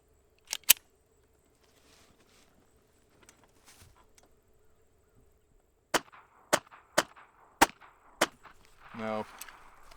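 Revolver shots fired at long range, out to 100 yards, on an outdoor range: two sharp reports close together, a quiet stretch, then five evenly spaced cracks, each ringing briefly, followed by a short rattling clatter.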